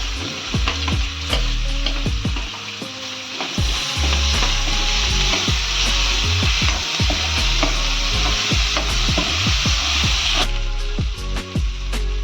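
Onions frying in oil for Rajasthani-style dal baati, a loud, steady sizzle heard close up, with scattered stirring clatter and pops throughout.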